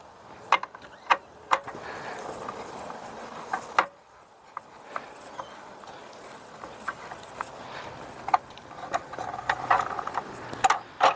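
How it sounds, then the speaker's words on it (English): A small wrench tightens the blade on a DEWALT miter saw, heard as close, sharp metallic clicks and ticks scattered over soft handling noise, with a brief quiet pause midway. "tighten it back up with our little wrench / star head screwdriver"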